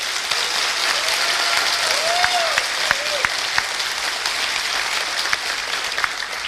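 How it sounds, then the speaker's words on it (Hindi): A seated audience breaks into steady, dense applause, a continuous wash of many hands clapping at moderate distance, with a faint voice or whistle-like tone briefly audible. "एक बार जोरदार ताली।"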